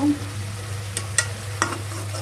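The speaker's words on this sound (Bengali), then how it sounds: "আলু পটলটাকে কষিয়ে নিচ্ছি ওই একই মশলার মধ্যে" Potatoes and pointed gourd fry in the same spice mix that was used for a fish curry, with a steady sizzle and a few sharp stirring scrapes close by.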